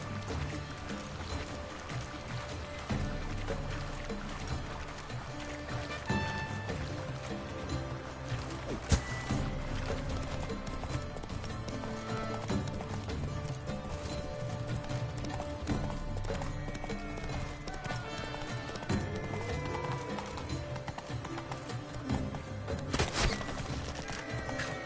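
Roach, the horse in The Witcher 3, gallops with steady rhythmic hoofbeats that run for a long stretch over background game music and ambience, with occasional louder thumps.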